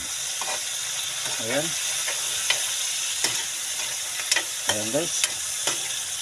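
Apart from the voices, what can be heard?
sautéing vegetables in a pan, stirring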